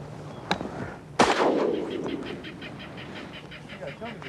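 Shotgun blasts during a Louisiana duck hunt, one sharp shot followed by a louder close blast that rolls away in a long echo, then rapid faint duck calls or wingbeats and murmured voices.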